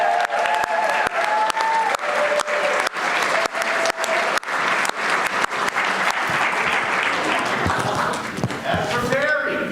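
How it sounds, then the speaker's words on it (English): An audience claps loudly and continuously after a community Purim play with music, tambourine and drums, sharp individual claps standing out from the dense wash; voices and cheers mix in near the end. "But also applause for Suzanne Wingrove Hoagland"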